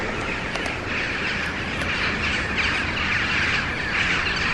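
Birds chatter and chirp steadily from trees beside a railway line at Long Buckby, a dense, continuous twittering that fills the whole stretch at moderate loudness with no talk.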